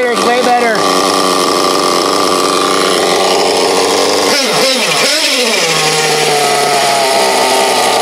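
A Team Associated AE Pro .28 nitro RC engine, fitted with a replacement carburetor, screams loudly and continuously at high revs, then drops and settles toward a steadier idle as it is adjusted.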